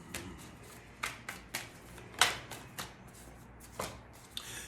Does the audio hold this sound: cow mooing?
no